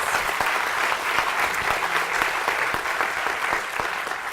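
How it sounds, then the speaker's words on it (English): A crowd at a Penn Alumni Weekend conversation event claps steadily and densely throughout, a sustained wash of many hands with no talking over it. "I just ask you all to give him a big round of applause"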